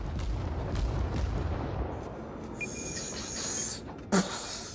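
Destroyer guns firing high-explosive shells in a World of Warships naval battle, a rumbling series of booming shots with a swishing whine and one sharp impact near the end.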